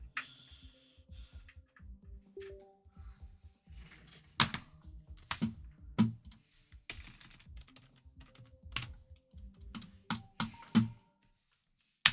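Rapid bursts of typing on a cheap computer keyboard, keys clattering in uneven clusters with sharp louder strokes, close and dry, with no voices.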